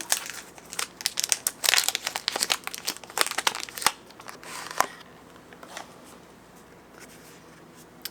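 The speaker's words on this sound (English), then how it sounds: "So let's just unbox this now." Crinkling and rustling of a Maison Francis Kurkdjian perfume package being unboxed, busy dense crackles close up for about four seconds, then thinning to sparse soft rustles and occasional clicks.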